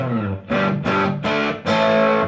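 Four loud, heavily distorted electric guitar chords struck in a steady rhythm through a Fender Blues Junior amp with gain full up, each buzzing and sustaining with thick overdriven crunch.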